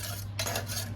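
A metal utensil scraping leftover garlic out of a container or press in a home kitchen, two short close scraping strokes with a low hum underneath and no talking.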